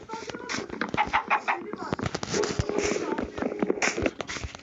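A Minecraft chicken clucks in short bursts amid busy game sounds, with a person talking over much of it.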